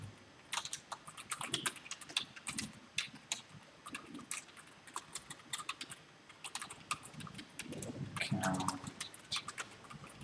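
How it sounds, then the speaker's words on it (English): Clicky keystrokes on a computer keyboard fall in quick, uneven bursts, close and fairly soft, with short pauses between runs of typing. "Let me finish typing this and I will explain."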